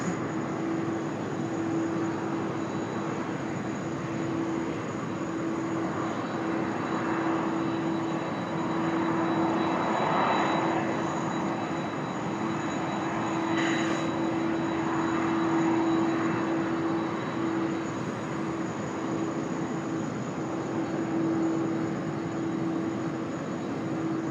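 A UPS cargo plane taxis at Sydney Airport, its engines giving a steady loud drone with a sustained whine, continuous and fairly near, with no voices over it.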